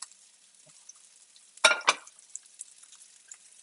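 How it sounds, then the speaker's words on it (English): A spoon stirring warming jus in a pan, a quiet scrape and two close swishes in the middle over a faint background simmer. "Get it nice and warm and occasionally give it a stir."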